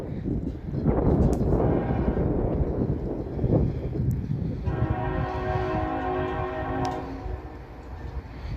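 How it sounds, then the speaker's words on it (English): A CSX freight coal train rumbles past at speed in Lima, Ohio, with loud roaring wheels and wind buffeting, and its horn blasts a sustained chord midway through, close and powerful. "That's a loud horn."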